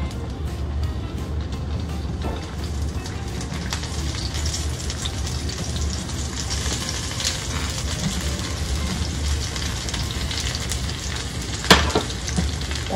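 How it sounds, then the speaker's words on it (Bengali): Eggplant fries in hot oil with a dense, continuous sizzle that stays even throughout, and a single sharp utensil clatter near the end. "এটার জন্য বেগুনটাকে আগে ভেজে নিব"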